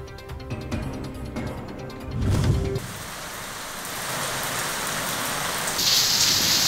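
Steady rain falling during a summer downpour in a Pakistani city such as Lahore, a dense continuous hiss that swells louder after a brief muffled thump, with no voices.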